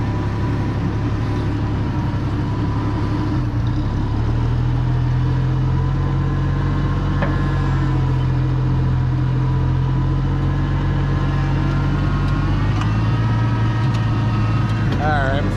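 A gas tractor engine runs steadily, loud and close, a low droning rumble that rises slightly in pitch partway through before mowing with a 10-foot disc mower, with a voice heard over it.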